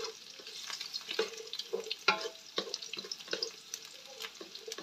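Garlic for pancit bato fries in a dry pan with no oil, giving a quiet, close sizzle broken by scraping stir strokes in an irregular rhythm.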